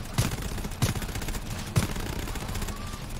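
Three separate gunshots ring out in the co-op shooter GTFO at uneven intervals, sharp and fairly close. Dark, low game ambience hums between the shots.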